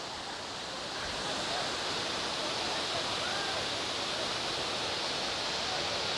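Steady, dense rushing roar of falling water at Sariya Waterfalls near Devarapalli, a broad continuous wash that swells slightly after the first second and holds loud and even throughout, with no talk.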